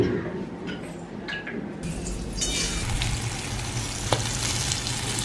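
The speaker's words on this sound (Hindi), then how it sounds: "यहाँ पे कॉलीफ्लावर का भी सेम फ्राई जैसा बना रही हूँ" Cauliflower frying in a pan: sizzling that swells louder partway through as the pan heats up, with occasional stirring scrapes and a single sharp tap.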